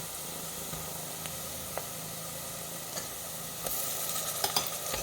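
Ginger garlic paste sizzles with onions in a hot pan, a steady loud frying hiss broken by occasional scrapes and clicks of a spoon stirring, with no voices.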